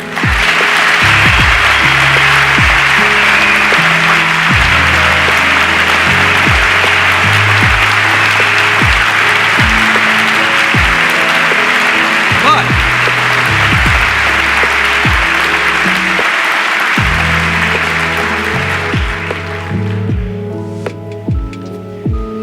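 An audience in the Congress chamber claps in sustained, dense applause that holds steady for about twenty seconds before thinning out, with a lofi beat and bass pulsing under it throughout.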